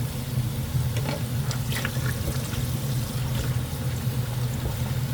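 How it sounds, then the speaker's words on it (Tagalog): Cold tap water runs steadily over boiled pork being washed in a sink, a continuous close splashing rush with no voices. "hugasan lang natin ng cold water"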